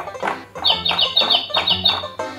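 A children's educational puzzle-block toy plays a recorded bird call, a rapid series of bright, close chirps and tweets repeated in quick succession for about two seconds, with no talking.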